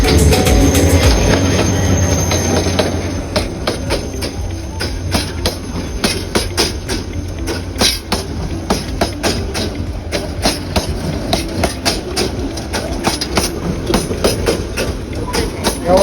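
A train runs along a line through forest in Lawachara National Park, loud and close, with rhythmic wheel clatter over rail joints and a high squeal early on.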